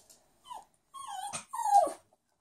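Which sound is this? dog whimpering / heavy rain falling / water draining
dog whimpering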